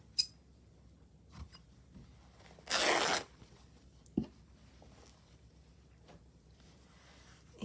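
Scissors cut fabric for a handmade fabric journal, one short, loud crisp snip amid quiet handling noises and a few faint taps.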